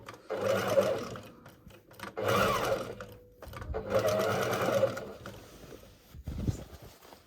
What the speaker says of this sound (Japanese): ある程度ちょっと大きめのジグザグステッチで を入れて、 横糸を押さえようと思います